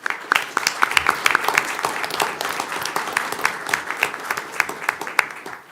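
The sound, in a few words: applause for a region player of the year at a board meeting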